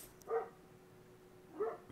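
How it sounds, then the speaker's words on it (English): Dogs outdoors give two separate barks about a second apart, moderately loud at mid distance against a quiet background. "let me go get my dogs in the house because they're getting a little crazy"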